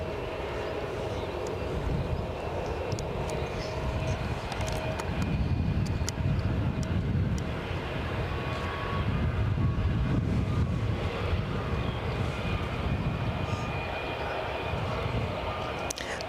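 A British Airways airliner at Aberdeen airport produces a steady, broad engine roar with a faint whine on top, holding fairly constant and moderately loud throughout, with gusty wind buffeting the microphone.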